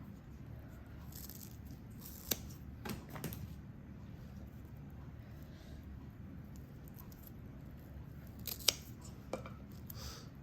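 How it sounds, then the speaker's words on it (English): Pruning shears cut through freeze-damaged plant stems with a few faint, crisp snips, two close together early and another pair near the end, over a quiet room hush. "So I'm just gonna cut it right here."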